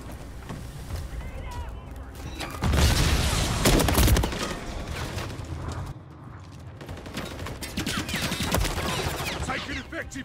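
Heavy gunfire in Call of Duty: Modern Warfare III, with sustained bursts and a louder, denser volley near the middle, under game voice callouts and chatter.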